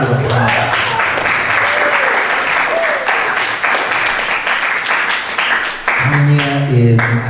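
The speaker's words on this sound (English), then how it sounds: "round of applause" Audience applause welcoming Dr. Tanya Calamoneri to a lecture on Butoh dance, a dense, steady wash of many hands clapping that is loud and close and lasts throughout, with a voice and tonal sounds rising near the end.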